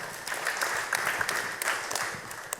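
A church congregation applauds in a steady, moderately loud burst of clapping for a few seconds, with no speech over it.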